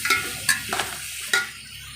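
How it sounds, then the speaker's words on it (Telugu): Bottle gourd pieces are stirred in a cooking pan, giving several quick scraping clatters over a light sizzle, close and fairly loud. "ఆనపకాయ మొత్తం అలా వేసుకున్న తర్వాత తిప్పేసుకుందాం"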